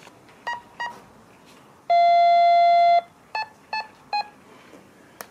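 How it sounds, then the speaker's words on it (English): Short electronic beeps from an INAV drone flight controller's audible variometer chirp in quick bursts, then one long steady tone sounds for about a second, followed by more brief beeps, fairly loud over quiet background hiss. "we get the varying tone of the Vario to indicate lift or sink"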